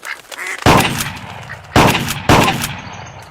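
Ducks quacking and shotgun blasts in the Clay Hunt VR video game: a few soft quacks, then three sharp, loud shots with quick decays, spaced roughly a second apart.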